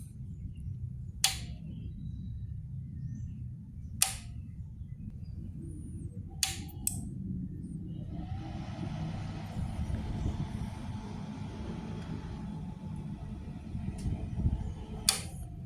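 A 450 watt electric welding machine is switched on: a few sharp clicks, then a soft steady hum and faint cooling-fan whir that keep running at low volume.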